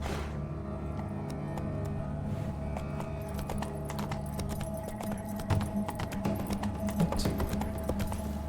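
Rhythmic clip-clop of horse hooves in The Witcher 3 plodding steadily over a humming, tonal background, with faint jangling and clicks mixed in.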